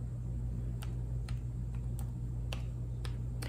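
Scattered keystrokes on a laptop keyboard while a password is typed, about eight soft, irregular clicks over a steady low electrical hum.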